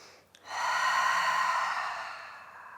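One deep breath during an exercise session comes as a long, close, breathy exhale that follows a quick intake.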